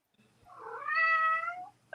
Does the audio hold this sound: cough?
no